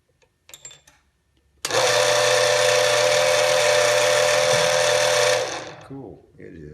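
A drill bores through a large chrysocolla stone bead, a loud, steady high whine that starts abruptly, holds for about four seconds and then winds down, preceded by a few small clicks.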